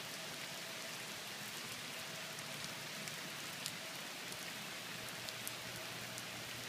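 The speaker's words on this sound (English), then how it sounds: "Rain." Steady rain falls with a dense, even hiss and scattered drops, close and continuous, with a faint idling engine hum underneath.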